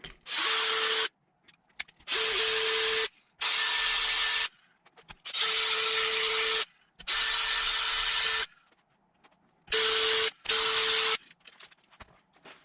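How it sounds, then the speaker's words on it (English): Diesel injector seat cleaner tool spinning against the spark plug seat of an RB20DET cylinder head, loud whirring bursts of about a second each, repeated in an on-off rhythm with short silent gaps. "this is an injector seat cleaner for a diesel engine, and I'm going to try and clean up the spark plug mating surface with these"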